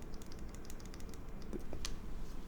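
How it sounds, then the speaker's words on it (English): A Neo65 keyboard with a hot-swap switch and a regular caps lock keycap whose bottom hits the switch case, heard as a close, quiet run of scattered key clicks and taps with no talk. "you hear that interference. It's because the bottom of this keycap is hitting the switch"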